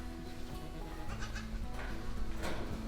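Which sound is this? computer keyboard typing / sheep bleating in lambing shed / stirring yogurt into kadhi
sheep bleating in lambing shed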